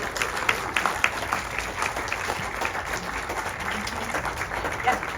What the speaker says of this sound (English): Yes, keep applaud them, please.